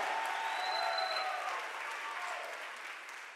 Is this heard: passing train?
no